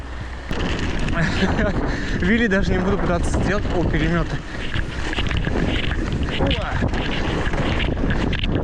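Strong wind during an early-morning Siberian January blizzard, roaring steadily and loudly against the microphone of someone cycling through it. The gusting rumble runs the whole time beneath someone talking.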